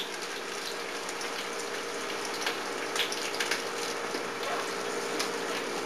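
Sliced onion fries in oil in a pan for chopped liver, a steady low hiss and crackle with faint scattered pops, heard alone at modest level.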